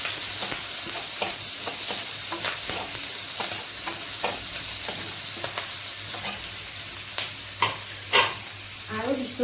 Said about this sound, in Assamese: পিঁয়াজ আৰু জলকীয়াকেইটা মই এনেদৰে কাটি লৈছিলোঁ সেইখিনি দি দিছোঁ তেলতে। এইখিনি মই এতিয়া অকণমান ভাজি ল'ম।